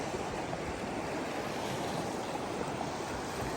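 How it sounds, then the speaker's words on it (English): A river in inland Alaska flows nearby in a steady, dense, full rushing wash that stays loud and unchanging throughout, with no voices. "I'm down by the river, the actual river"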